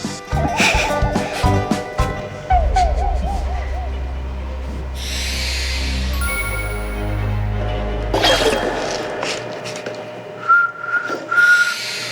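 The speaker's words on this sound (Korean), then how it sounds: "휘파람 웃기면 못불어" Several short bursts of whistling, broken and wavering, mixed with laughter, a low steady hum and scattered noises.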